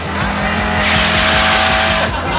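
A car slides sideways across the finish line on a Top Gear test track, its engine revving hard under a loud, sustained tyre squeal that holds for a couple of seconds, close and with nothing else heard.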